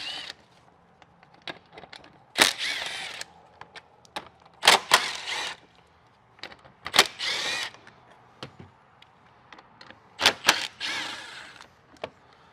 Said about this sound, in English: We're gonna start popping out these bolts that hold the plastic bumper on.